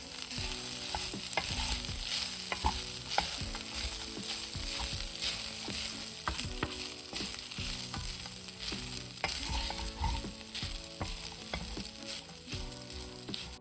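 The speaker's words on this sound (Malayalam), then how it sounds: "ഇപ്പോൾ ബീഫ് മുഴുവനായിട്ടും ചേർത്തിട്ടുണ്ട്. ഇത് നന്നായിട്ട് മിക്സ് ചെയ്ത് കൊടുക്കാം." Beef being stirred as it fries in coconut oil for a spicy Kerala kanthari beef fry, a steady loud sizzle with repeated scraping stir strokes throughout, no voices.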